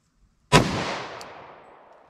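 A single .45 ACP gunshot from a 185-grain +P round rated at 1,200 feet per second, a sharp loud crack followed by a long decaying echo, fired outdoors over a chronograph.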